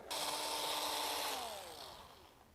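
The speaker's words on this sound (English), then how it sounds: "now just run them out with a drill" A power drill whirs steadily as it runs bolts out of a Nissan VQ40 engine block during a teardown, a close high-pitched spin that winds down and fades over the last second.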